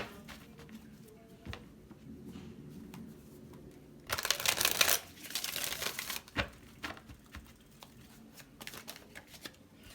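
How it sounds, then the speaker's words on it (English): A deck of tarot cards being shuffled close up, with a dense riffling burst around the middle and a few shorter crisp flurries after it, otherwise quiet. "One more shuffle."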